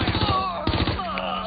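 Gunfire in the video game Watch Dogs Legion as a suspect opens fire, a rapid burst of loud shots in the first half, a brief pause, then more shots under a dense game soundtrack.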